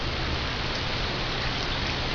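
A steady, dense splashing rush of brine being poured continuously into a jar, close and fairly quiet, with no voices.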